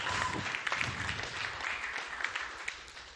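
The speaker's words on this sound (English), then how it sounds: "Clap up for Kyle, everybody." A comedy club crowd at Laugh Factory Chicago claps for a contestant, brief and fairly faint clapping with a few sharp claps over a murmuring room.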